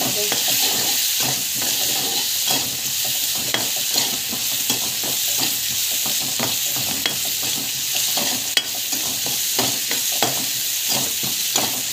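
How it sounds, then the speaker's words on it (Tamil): Onions sizzle and fry in a pan with salt and turmeric, a steady loud hiss broken by regular scraping stirs throughout. "நல்லா வந்து வதக்கி விட்டுக்கோங்க."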